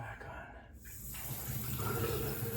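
Water rushes from a newly installed bathroom faucet without its aerator, a close, continuous gushing spray into the sink.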